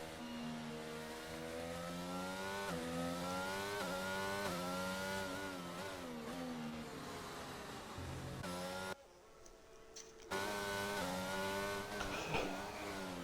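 Race cars lapping in practice at the Brazil round of a racing league, engines holding steady high-pitched whines that rise and fall through gear changes, with a brief near-silent gap before the loud engine noise returns.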